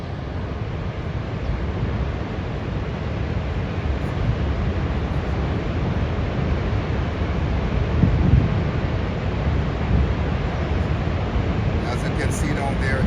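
Niagara Falls, seen from the American side, sends out a constant broad roar of falling water. The rush stays steady and heavy throughout, with wind buffeting the microphone.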